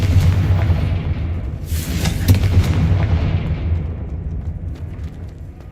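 The Confringo explosive spell is cast in Hogwarts Legacy, a heavy booming blast with a burst of crackle near the middle, followed by a rumbling tail that slowly fades.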